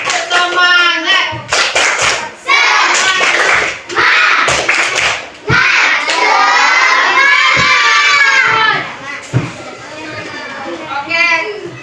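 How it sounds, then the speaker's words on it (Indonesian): Fourth-grade schoolchildren in an Indonesian classroom perform a spirit clapping chant, bursts of rhythmic hand claps mixed with loud shouted chanting and excited children's voices, close and energetic. "Tepuk semangat."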